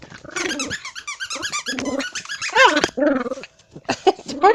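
A small dog howls and yips in repeated wavering, rising-and-falling bursts close by, interrupted by squeaks from a squeaky toy.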